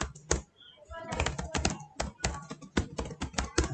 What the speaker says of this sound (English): So let's go here and just type in Google,